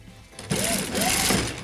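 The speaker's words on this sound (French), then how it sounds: "je vais coudre donc 1 cm du bord d'ici" A sewing machine stitching the sleeve of a winter coat starts up after a brief quiet moment and runs in a steady, fast, close mechanical whir with a tonal hum, with no talk over it.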